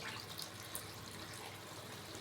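A small glass of water is poured into a pot of fish curry, giving a steady watery splash and trickle that runs throughout, moderately close, with no talk.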